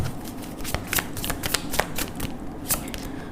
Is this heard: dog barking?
no